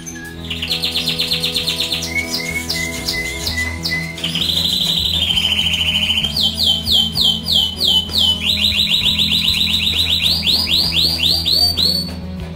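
A timbrado canary sings close and loud, a continuous song of rolling trills, chirps and rapid warbling phrases with no talking.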